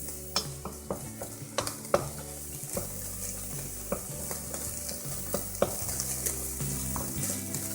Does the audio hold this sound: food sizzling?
yes